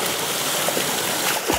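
Water running steadily at a swimming pool as feet are washed off, a continuous close rushing hiss with small splashes near the end.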